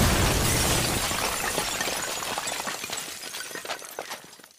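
Loud Minecraft explosion bursting at once with a broad crackling blast and shattering debris, then decaying over several seconds into scattered pops and rumble, with no voices.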